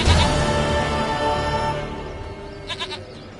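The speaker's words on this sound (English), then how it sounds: "Goat of mine, dearest, sweetest goat." A goat bleating in The Witcher 3, a short wavering cry near the end over loud sustained background sound.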